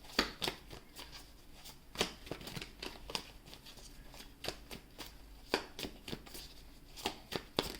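Tarot cards being shuffled by hand, a steady run of soft riffling flicks and slaps with brief pauses between bursts, close and fairly quiet, with no talking.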